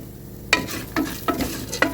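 Garlic frying in a pan, with four sharp scraping stirs over a low sizzle, close and fairly loud.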